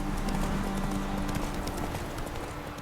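Roach, the horse in The Witcher 3, trotting along a path: steady close clip-clop hoofbeats in a quick even rhythm over a constant outdoor ambience, no talking.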